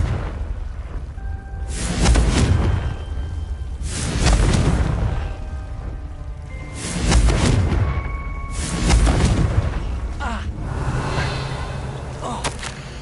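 Confringo fire-spell blasts in Hogwarts Legacy land as a series of deep booming whooshes, four or five swelling bursts spaced a couple of seconds apart over a steady low rumble.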